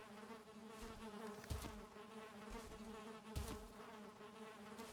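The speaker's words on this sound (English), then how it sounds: "I want the bees for sure." In the survival game Valheim, bees drone continuously in a low, even buzz, with two soft thumps spaced a couple of seconds apart and no one talking.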